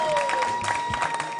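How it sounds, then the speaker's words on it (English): Audience applause for a contestant at the Ghana Most Beautiful 2021 pageant, a steady wash of clapping and crowd noise under background music. "A round of applause for him at Kwansuma."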